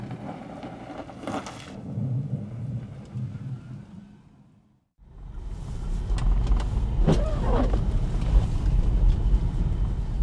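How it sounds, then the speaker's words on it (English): A Tesla Model 3 on winter tires drives in bitter Scandinavian cold. A brief quiet gives way to a steady, loud rumble of road and tire noise that carries on to the end, with no talking. "let's go now and see how it is to drive the car"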